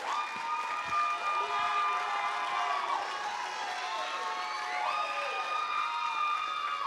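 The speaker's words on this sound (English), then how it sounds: "one more round of applause for all their hard work" Applause and cheering from a crowd honoring student athletes at a high school college signing event, a steady wash of clapping with shouts and whistles running throughout at a fairly even level.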